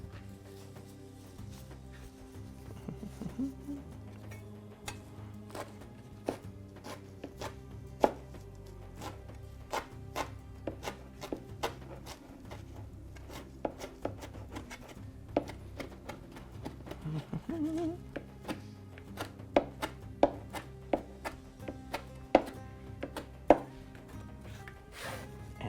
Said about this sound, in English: So I'm going to just wrap this up, get it chopped up nice and thin